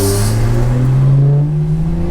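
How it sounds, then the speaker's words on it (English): An Audi revs hard and pulls away close by, its engine note climbing in pitch over a short, loud burst, then easing and settling as it passes. "Hey, this Audi going crazy."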